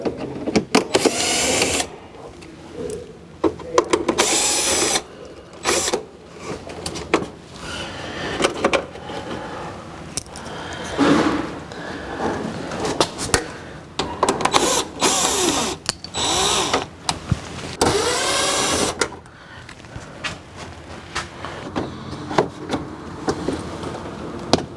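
Power screwdriver or drill backing screws out of the rear end of a 2005 Acura NSX in a garage, giving repeated short whirring bursts with pauses between them, close and moderately loud.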